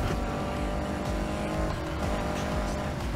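A BMW drifting in Need for Speed Heat, its engine droning steadily and loudly with a rough texture, tires scrubbing and squealing under the revving, with no voices.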